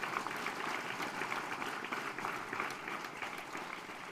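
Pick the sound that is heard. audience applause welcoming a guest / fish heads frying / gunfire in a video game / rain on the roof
audience applause welcoming a guest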